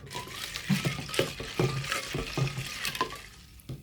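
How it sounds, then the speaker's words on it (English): Chopped strawberries stirred in a punch drink: soft repeated liquid swishes and light clinks of a spoon against the container, quiet and close, in an irregular rhythm with no talking. "Now I'm going to stir it around."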